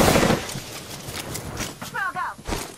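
Gunfire in the Apex Legends video game, rapid shots and bursts that are loud at first and then more scattered, mixed with voices and other game noise.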